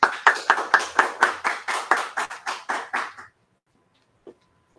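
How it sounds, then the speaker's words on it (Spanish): Audience at a poetry slam in Cali applauds a slammer, a steady run of a dozen or so distinct, fairly close hand claps lasting about three seconds before stopping abruptly, then near silence. "otro fuerte aplauso"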